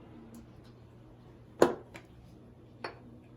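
An Anchor Christmas Ale bottle is opened with an opener: a sharp metallic click and pop stands out in a quiet room, followed by a couple of smaller faint clinks.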